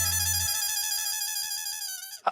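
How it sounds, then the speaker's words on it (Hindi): A phone ringtone plays for an incoming call in a comedic Indian household scene, a steady harmonic electronic melody sounding continuously and loudly before cutting off abruptly. "लगता है उन्हीं का फोन आ रहा है"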